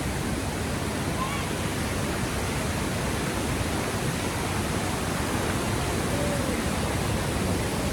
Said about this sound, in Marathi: रिमझिम पाऊस पडतोय, इतकी सुंदर नदी वाहते मागे.